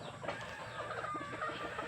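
Purebred chickens at a breeder's poultry farm, soft overlapping clucks and murmurs from several birds, faint and close together with no talk.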